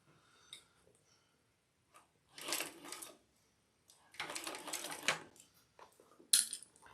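A sewing machine stitches a bag in short bursts: a brief run, then a longer whirring stretch of rapid needle clatter, with small taps and clicks in the quiet gaps between.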